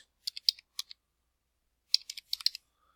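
Keys on a computer keyboard are typed in two short bursts of crisp, close clicks, separated by a silent pause.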